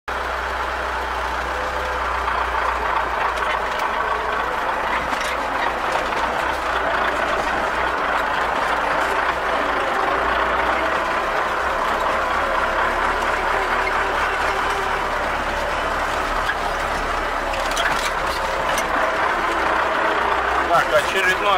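An MTZ-82 tractor engine drives slowly along a farm track while hauling hay bales, a steady low diesel drone with rattling, and someone talks over it at times.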